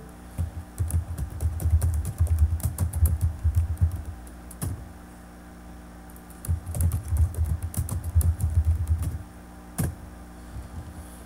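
Someone types on a computer keyboard while setting up WordPress categories. Two quick runs of soft, close key clicks are split by a pause, and a single firmer keystroke like Enter follows each run.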